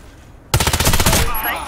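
Rapid burst of gunfire in the shooter game Warface, a loud close volley of about a dozen sharp shots lasting under a second before fading into a ringing tail, with no talk.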